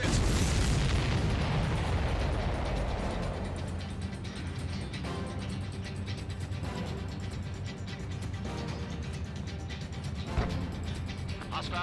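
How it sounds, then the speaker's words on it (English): A missile strike explosion in the Ace Combat 7 jet combat game: a loud, broad blast at the start that rolls into a sustained rumbling roar, with engine drone and a smaller pop near the end. "Missile hit."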